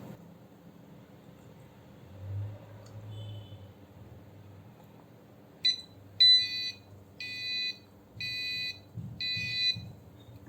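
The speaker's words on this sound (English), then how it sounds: "This is some spare buzzer. Let me see how it works." After several seconds of low background rumble, a spare Arduino buzzer module sounds in a series of five short beeps, rhythmic and fairly close.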